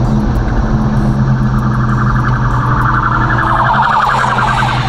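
Police siren wailing as it passes, heard from inside a moving boxy Chevy with a stock small-block engine. The warbling tone rides over a loud, steady engine and road rumble.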